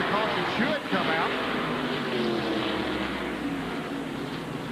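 An ARCA stock car roars down the back straightaway at Atlanta in 1990, a steady, loud engine drone throughout under continuous race commentary.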